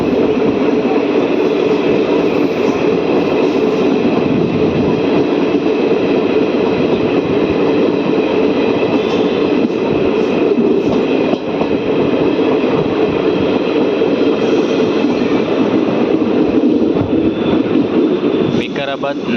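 Mahbubnagar–Kacheguda DEMU train pulling out of Umdanagar station, a steady loud rumble and rattle of the carriage heard from onboard, continuous throughout with faint rhythmic clatter and some voices in the background.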